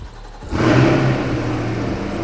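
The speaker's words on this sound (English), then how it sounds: "hit the center button, which is going to start the car" A Chevrolet Corvette C8 engine started by remote, firing with a sudden loud rev and then settling into a steady mid-pitched idle, heard up close with no talk over it.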